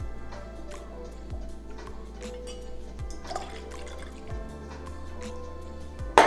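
Paula's Texas orange liqueur from Austin, Texas poured in a half-ounce measure into a cocktail, a faint liquid trickle and drips set against a steady low background hum, with a sharp clink right at the end.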